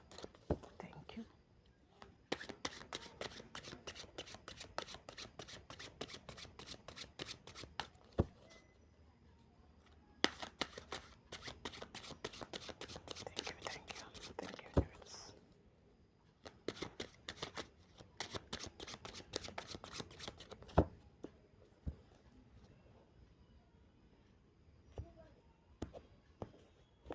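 Tarot cards riffle and shuffle in three long bursts of rapid, crisp card flutters, with soft whispered talk and quiet pauses between the runs.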